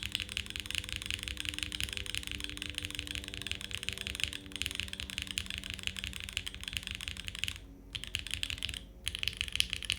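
Fast, steady typing on an Eden 60% mechanical keyboard fitted with lubed Gateron switches, close and clear, a dense run of soft clacks with two brief pauses near the end.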